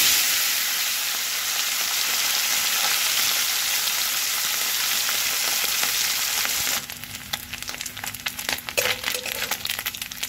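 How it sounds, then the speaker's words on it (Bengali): Morla fish fry in hot mustard oil in a kadai with a loud, steady sizzle. Later the hiss thins and is broken by scattered clicks and crackles as the pieces are stirred or moved. "যে আরও মাছ যেগুলো আছে সেগুলো একে একে ভেজে নেব।"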